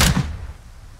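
A single loud shotgun blast from Al Capone in the crime strategy game Empire of Sin, a sharp close boom at the start that decays over about a second with no other sounds.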